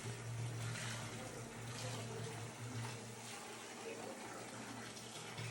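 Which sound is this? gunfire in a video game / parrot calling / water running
water running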